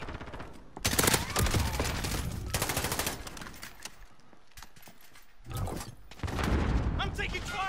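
Rapid bursts of automatic gunfire and single shots crack close and loud during a Modern Warfare match, arriving in several clusters with a player talking over them.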